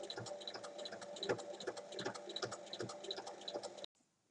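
A sewing machine runs a long continuous seam along a fabric pouch with a steady, fast mechanical ticking. It is close and fairly loud, then stops abruptly near the end.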